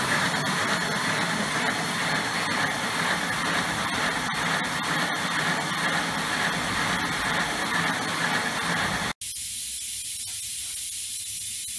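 A vehicle engine runs on a rolling road under light load, giving a loud, steady, hissing roar that holds for about nine seconds before cutting off abruptly to a quieter background.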